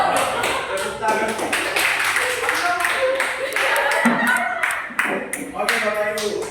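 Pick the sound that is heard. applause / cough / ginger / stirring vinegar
applause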